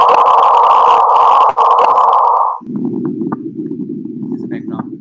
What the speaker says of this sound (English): That is the sound of the gravitational wave.